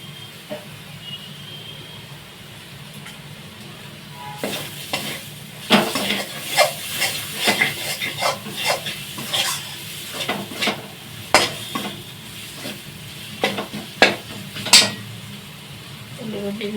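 Chopped green chili being stirred into fried onion in a pan for fried rice, with a quiet sizzle at first, then a long run of rhythmic spatula scrapes and clanks against the metal.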